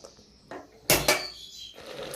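A metal lid clatters onto a pot of mutton being cooked, giving a sharp clang and a second ringing knock at close range, framed by softer scrapes.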